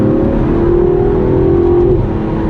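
Car engine revving steadily near 6,500 RPM, its loud, continuous drone holding a rising pitch before dropping sharply as the gear shifts, all recorded from inside the moving car.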